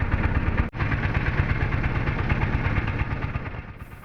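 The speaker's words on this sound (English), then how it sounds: "It was a metal boat with a noisy engine." A metal boat's noisy outboard engine drones close by on a lake in a Vietnamese national park, a steady loud chugging low rumble, briefly cutting out for an instant before running on without pause.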